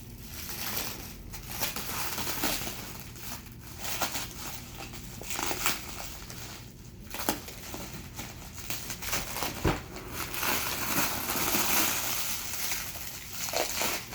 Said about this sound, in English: now as I unwrap this